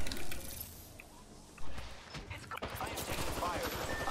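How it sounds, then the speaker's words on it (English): Gunfire rattles in the video game Apex Legends: a quieter stretch, then loud rapid bursts of automatic fire that keep going to the end, with faint voices in the mix. "Opening fire on the enemy."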